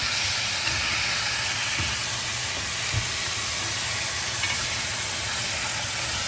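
Cube steak stir-frying with soy sauce and oyster sauce sizzles in a hot pan, a dense, steady hiss with brief low clinks and thumps of stirring, close and continuous without voices.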